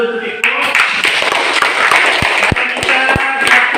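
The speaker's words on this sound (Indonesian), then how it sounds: "Kita tepuk tangan dulu untuk Eko." Children in a classroom clap together in a brisk round of applause, sharp and close, with some voices and taps mixed in.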